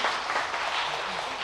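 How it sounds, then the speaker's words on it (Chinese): Church congregation applauding at a Sunday worship service, a steady wash of clapping filling the whole moment without pause. "我们用热烈的掌声来鼓励我们的"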